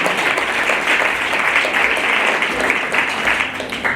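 Applause fills a church congregation at a tenth-anniversary service in Montreal, a steady, dense wash of clapping from a crowd with faint voices mixed in, sustained evenly throughout.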